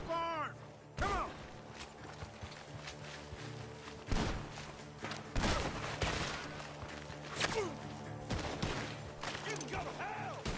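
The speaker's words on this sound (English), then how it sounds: "The gunshots are coming from that barn" Gunfire crackles from a barn in Red Dead Redemption 2: irregular, sharp shots and short bursts at mid distance, with footsteps and creaking between them and some game voices in the mix.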